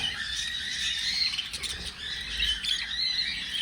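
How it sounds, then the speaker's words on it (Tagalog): Budgies squawking and chirping in a flight aviary, some crossbred with local birds, a dense overlapping chorus of shrill calls at moderate distance, steady throughout with no talk. "so yan may mga budgie din dyan local po yun oh"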